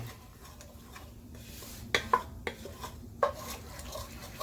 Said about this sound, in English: as I scrape the bottom of the pan, it's already starting to get thicker